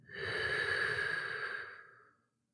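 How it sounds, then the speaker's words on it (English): A deep, slow breath during a closing meditation, a soft airy rush that swells, holds steady for about two seconds, then fades into silence, close and alone with no voices. "Let's take a deep breath here to bring our meditation to an end"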